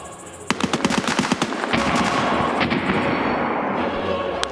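Gunshots in Escape From Tarkov: a rapid, close volley of sharp automatic shots rattles off, then gives way to a sustained rumbling wash with a few scattered later shots, while a voice talks faintly.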